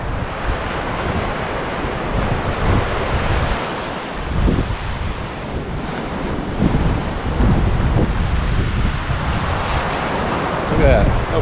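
Ocean surf on the white-sand Grand Strand beach in South Carolina, a continuous loud wash of breaking waves mixed with wind buffeting the microphone.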